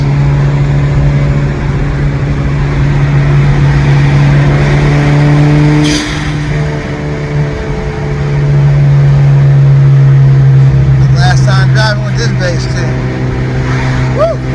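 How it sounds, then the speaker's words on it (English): Steady engine drone of a Honda Civic (2006–2011 generation) cruising along, with shifting pitch as it speeds up and eases off, heard from inside the cabin. "We got some driving sounds."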